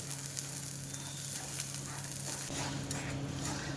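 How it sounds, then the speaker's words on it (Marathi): Washed moong dal roasting in a pan, a steady close sizzle with faint stirring scrapes throughout, no talking. "तर आपली ही धुतलेली डाळ आहे ती आपल्याला छानपैकी खरपूस भाजून घ्यायची आहे."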